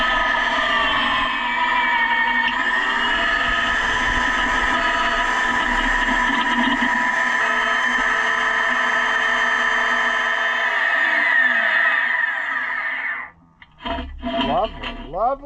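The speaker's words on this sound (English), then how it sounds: "Turn the drill on." A drill used on a White 271 disc beam farm implement runs steadily and loud with a sustained whine and shifting pitch, then stops abruptly near the end, followed by a few brief clatters.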